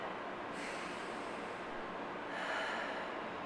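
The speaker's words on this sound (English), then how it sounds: "full, deep breaths in and out" Slow, deep breathing during a shoulder stretch: a long noisy breath in, then a breath out a couple of seconds later, close and soft with no talk.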